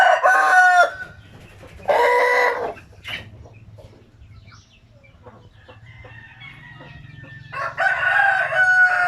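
A newly bought breeder rooster at a backyard poultry farm crows loudly and close, several full cock-a-doodle-doo calls separated by quieter gaps with faint clucks and background rustle.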